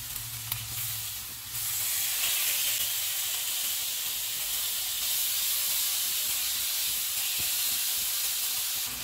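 Chicken pieces for a grilled chicken salad sizzle steadily in a pan over a medium flame, a loud continuous hiss that swells after a brief quieter start and holds with no talking.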